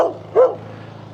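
A dog barks in a quiet outdoor spot on a riverside walk at Goondi Bend near Innisfail, Queensland, Australia: two short, fairly close woofs about 0.4 s apart, with a further bark starting at the end, over low background hum.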